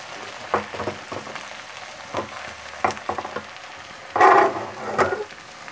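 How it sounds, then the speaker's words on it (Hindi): Okra fries in hot oil and ghee, a soft steady sizzle broken by occasional louder spits and pops, with a stronger crackling burst near the end. "देखें भिंडियाँ मेरी फ्राई हो रही हैं"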